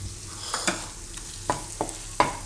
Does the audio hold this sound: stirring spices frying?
yes